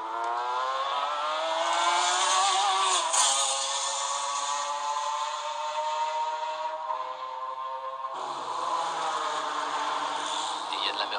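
McLaren F1 GTR race cars at the first chicane of Le Mans 1996, engines roaring loud and close throughout, revs dropping under braking then climbing again as the cars accelerate away, with commentary talking over it.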